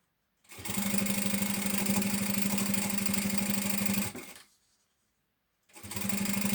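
A sewing machine stitches the side seams of a shoulder bag in one fast, even run of close mechanical chatter, stops for over a second, then starts again.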